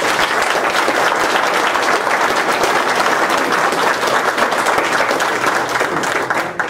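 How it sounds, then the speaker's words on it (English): A crowd at a Quilts of Valor presentation for recipients gives a long, full round of applause, loud and sustained for nearly seven seconds before tapering at the end. "let's have one final round of applause for everybody."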